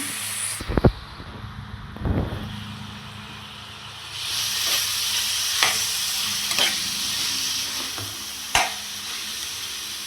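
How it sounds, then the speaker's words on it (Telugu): Eggplant pieces are added to a hot pan and stirred, a few sharp clanks of the spoon giving way to a loud, steady hissing sizzle with occasional scrapes, and no talking. "తర్వాత వంకాయ ముక్కలు కూడా వేసేసుకొని బాగా అయితే మగ్గించుకోవాలి మూత పెట్టేసుకొని"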